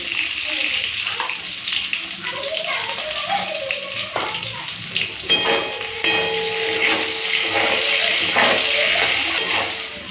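Eggplant pieces sizzle steadily in hot oil with salt and turmeric, a close, continuous crackling fry with occasional stirring clinks and scrapes in a home kitchen.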